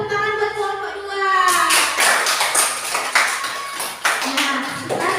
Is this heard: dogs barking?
no